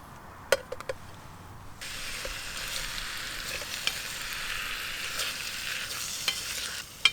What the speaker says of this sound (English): Let's fry this beef up.